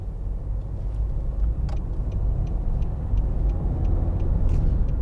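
Interior engine and road rumble from a 2013 Nissan Note Acenta Premium with the 1.5 dCi diesel driving along, a steady low drone with faint ticking clicks over it and no talk.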